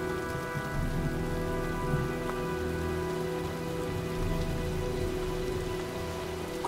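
Steady heavy rain storm in the game Heavy Rain pattering on surfaces, a dense continuous wash of drops with a low rumbling undertone, no voices.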